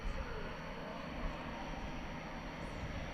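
A Frontier Airlines airliner in green livery passes at DFW Airport at night, a steady broadband engine roar holding at moderate distance without clear rise or fall.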